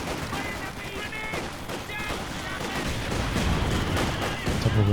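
Grenades burst repeatedly in a Company of Heroes 2 4v4 battle, a busy wash of explosions and gunfire crackle with sharp blasts scattered throughout and growing louder toward the end.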